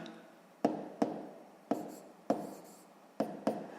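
A pen writes numbers on paper in several short, distinct strokes spaced a second or less apart, close and quiet, with no talking.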